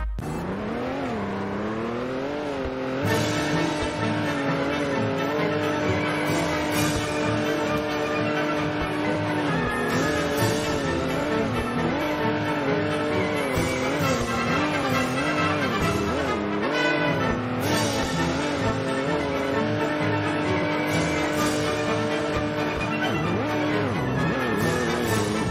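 A Bugatti Chiron Super Sport 300+ hypercar droning steadily with a sustained engine tone whose pitch rises and wavers as it accelerates, tires squealing throughout, loud and continuous with no talking.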